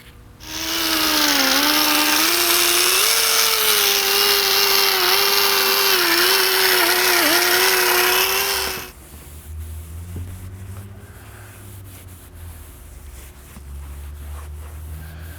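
A power polisher works a car headlight lens on a 1998 Chrysler Town & Country for the final polish, a loud close whine that wavers slightly in pitch for about eight seconds, then stops, leaving quiet background rumble.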